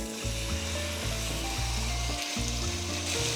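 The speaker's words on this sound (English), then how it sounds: "what we're gonna do now is sear our rack of lamb" A rack of lamb sears in a hot pan, a loud, continuous close-up sizzle and crackle with no one speaking.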